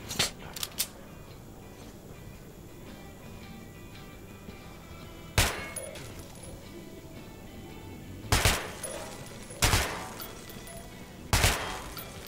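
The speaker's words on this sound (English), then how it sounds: "Feel free to try out your weapon on my firing range." Weapon fire on a firing range in the video game Metro 2033 Redux: a few quick shots open the clip, then four loud, sharp gunshots ring out singly several seconds apart over a low, steady background hum.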